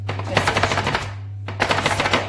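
A cake tray full of milk-slice batter is rapped against a hard surface to release air bubbles, producing quick bursts of loud, rhythmic knocking in two runs separated by a short pause, close up over a steady low hum.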